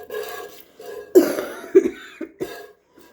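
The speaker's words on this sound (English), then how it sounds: "not only racking coughing spasms" Several harsh racking coughs in a short fit, close and fairly loud, with breathy pauses between the bursts.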